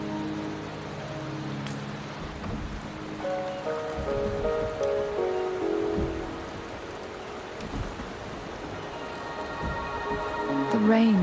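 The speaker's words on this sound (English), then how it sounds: "The rain is subsiding, and the sky will soon clear." Rain pours down in the video game Wuthering Waves, a steady hiss of falling drops running throughout, while soft game music plays underneath.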